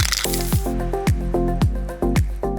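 Spray can primer is applied to D&D terrain pieces in short repeated bursts, each with a hissing spray and a sharp clicking nozzle sound, close and fairly loud.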